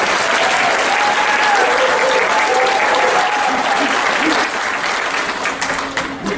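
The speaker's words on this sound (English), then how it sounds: "maybe we can give her all a round of applause here." Loud, dense applause fills the hall at the Leech Lake Tribal College 2014 graduation ceremony, with a few voices and cheers mixed in, holding strong before easing off slightly at the end.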